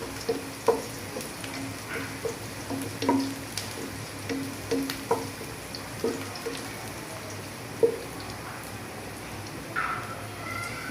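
Whole spices (cardamom, black pepper, mace, cloves and cinnamon) sizzling in hot oil, a steady soft frying hiss broken by frequent small pops and spatters.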